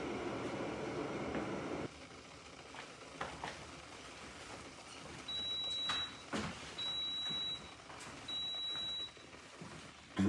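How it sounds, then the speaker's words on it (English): Three short electronic beep bursts from an electric hot water kettle signal the water is ready, over a faint background hum, fairly quiet and evenly spaced. "Once the hot water maker has beeped like that, tells the water is ready."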